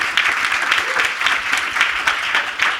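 Seated panel audience at a William Julius Wilson Institute event applauding, a steady, fairly loud ripple of many hands clapping without pause.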